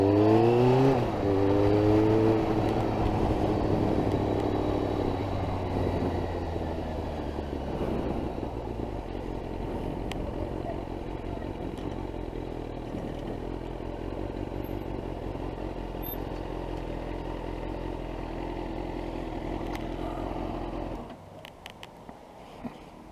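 Motorcycles rumbling through a car park, engines revving and pulling away close by with rising pitch at first, then a sustained droning engine noise that cuts off near the end, no talking.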